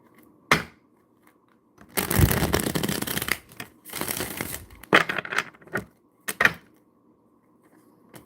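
Tarot cards are shuffled at close range in two longer riffling bursts, with single taps and flicks of cards before and after them.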